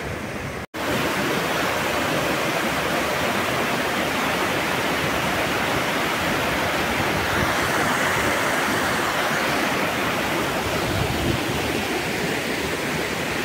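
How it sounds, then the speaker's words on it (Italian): Waterfalls in the Orrido di Foresto gorge roar as a continuous, broad rushing of falling water, loud and steady throughout, heard from close by on a metal bridge above the stream. "da qui si riesce a vedere anche la prima cascata, sono parecchie cascate una dietro l'altra in tutto l'orrido"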